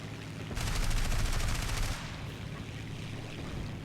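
Aircraft machine guns firing in War Thunder, one loud dense burst of rapid shots lasting under two seconds, then the steady engine drone carries on alone.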